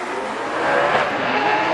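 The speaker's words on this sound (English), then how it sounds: "the V8 machine is going through the smoke" A V8 drift car at a Formula Drift Japan round roars loud and close through tyre smoke, its engine note held high and steady with a rising surge partway through.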